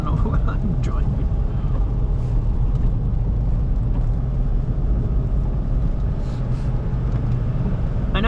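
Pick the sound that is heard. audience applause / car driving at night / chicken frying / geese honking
car driving at night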